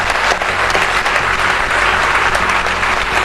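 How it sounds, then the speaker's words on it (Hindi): Loud, sustained applause from a large crowd at an awards ceremony, steady clapping filling the room without a break. "जिनके लिए चाहूंगी कि जोरदार तालियां हो जाए"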